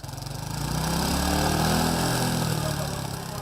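A motorbike engine runs steadily at close range on a Hanoi street while its exhaust emissions are tested at the pipe, a dense, even drone that swells slightly and holds throughout.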